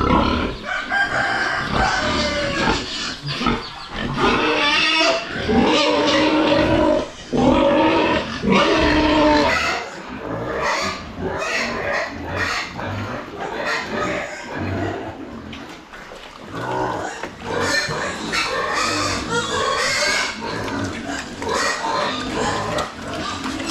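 Farm pigs grunt and squeal continuously and loudly, with a rooster crowing and hens clucking in the mix throughout.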